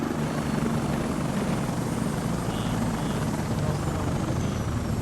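Helicopter in the game Squad, a steady loud rotor and engine roar filling the whole stretch with dense low thrumming, close and continuous.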